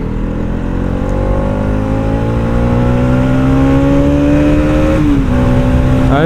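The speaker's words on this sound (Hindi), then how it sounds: "जब बाइक रेड लाइन होती है ना, ये देखो," A motorbike engine revs toward its red line, its whining pitch climbing steadily for several seconds before dipping slightly and holding. The sound is loud and close, with no speech.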